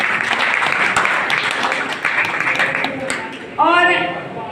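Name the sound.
audience applause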